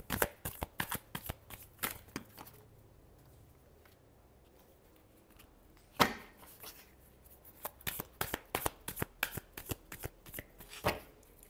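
Tarot cards shuffled by hand, with bursts of crisp riffling and flicking close up, a quiet gap in the middle, then another burst of shuffling.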